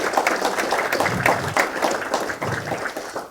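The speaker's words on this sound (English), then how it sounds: "Round of applause for Omnia" Applause breaks out for a sponsor at a legislative breakfast, a short burst of steady, dense clapping from a roomful of attendees, fairly close and even in loudness throughout.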